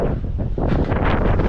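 Steady wind buffeting a microphone outdoors on a bricklaying construction site, a loud continuous rumbling roar that gusts stronger in the second half, with no voices.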